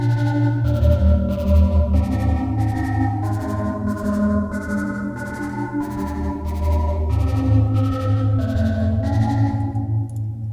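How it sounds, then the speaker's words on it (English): Third synth layer in a beat, a Vital-built patch playing sustained harmonic chords over a steady pulsing rhythm with other instruments, continuous and loud with no talking. "then I introduce a third synth, which sounds like this"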